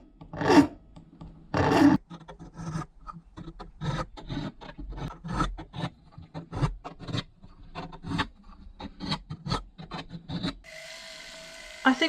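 Hand filing of a metal bezel for a first metalsmithing piece, heard as irregular rasping strokes of varied length, fairly close and moderately loud, with brief quiet gaps and a steadier hiss near the end.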